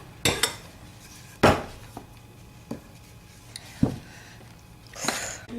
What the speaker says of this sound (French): On étale la pizza là avec le dos de cuillère.